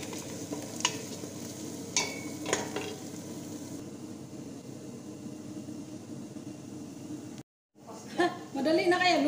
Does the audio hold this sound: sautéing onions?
yes